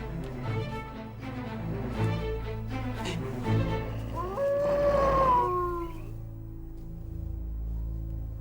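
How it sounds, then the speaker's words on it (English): Wolves howl in the wild near a parked car, with one long rising and falling howl standing out over a low steady rumble and other layered animal cries. "They're only wolves."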